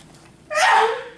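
A single sharp sneeze bursts out after a quiet moment, close and fairly loud, then trails off.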